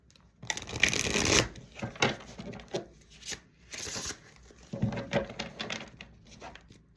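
Oracle cards from a love oracle deck being shuffled close up, with a long riffling burst, then a series of shorter soft shuffles and taps, fairly quiet with no talk.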